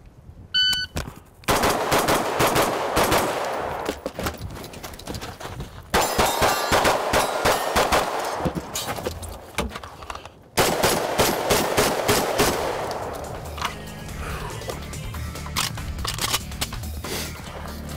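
Rapid strings of gunshots from a shotgun and a pistol fired at shooting targets, sharp repeated cracks in three fast bursts separated by brief gaps, loud and close, followed by metallic clanging rings from struck targets.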